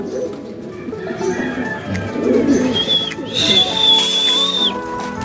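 Low, throaty racing pigeon coos repeat through a busy outdoor scene in summer heat, joined midway by a steady high whistle and some background chatter.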